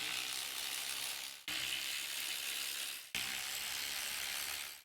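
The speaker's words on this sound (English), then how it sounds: "Now we can start removing our pan bolts." Ratchet working 10mm transmission pan bolts on a Subaru Legacy: a steady, dense clicking whir in three sustained runs, with brief breaks between strokes, close and fairly quiet.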